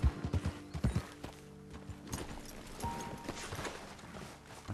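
Horse hooves clip-clop at a walk in Red Dead Redemption 2, a quiet irregular series of soft clopping steps with faint ambient game sounds around them.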